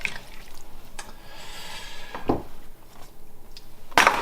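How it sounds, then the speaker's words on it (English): Beef Rogan Josh curry stirred in a pot, with soft wet squelches and a few light clinks of a utensil against the pot, quiet and close with no speech. "I'm gonna give that a stir"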